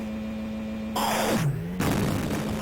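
Amiga Worms explosion: a sudden loud noisy blast bursts over a steady humming tone, with a descending whistle-like sweep and a second burst of crackling noise following shortly after.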